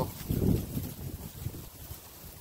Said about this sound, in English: Frickin' wind is brutal.